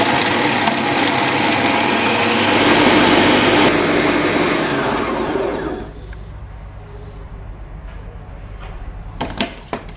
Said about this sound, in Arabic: غنحاول نطحن اللوز مع السكر الثقيل